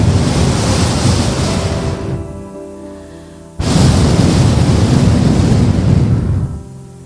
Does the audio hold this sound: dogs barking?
no